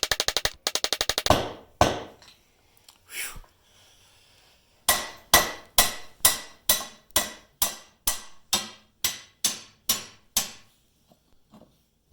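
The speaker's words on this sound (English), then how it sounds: "and then hit it with a hammer" Sharp metallic hammer blows on a John Deere riding mower wheel bearing: a quick burst of strikes, a pause, then a steady series of about a dozen evenly spaced, ringing hits, close and loud.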